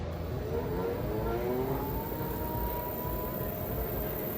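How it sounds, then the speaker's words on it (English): Levy electric scooter motor spinning up to top speed during a test after a controller replacement: a steady whirring hum with tones gliding upward, continuous and fairly close, with no talking. "so you can see we're going up to max speed here"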